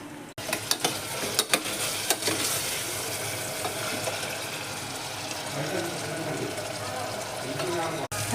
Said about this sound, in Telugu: టమాటాలు అయితే మగ్గుతున్నాయి